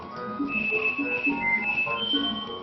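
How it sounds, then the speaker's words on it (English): Mario whistles a light tune while showering in the Super Mario RPG video game, a faint, steady melodic whistle running throughout over quiet background game sound. "Mario goes in and whistles a little too."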